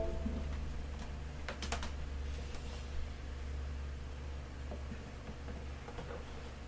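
Rapid typing on a computer keyboard, a steady stream of clicks over a constant low hum, with a brief louder flurry of keystrokes partway through.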